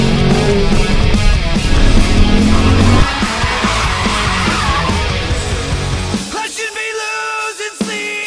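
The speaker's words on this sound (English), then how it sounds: "we have another edition of drag racing out at the track" A loud drag racing car roars and screeches at the track, its engine and tires filling the air before the noise drops to sharper mechanical revving and rattling toward the end.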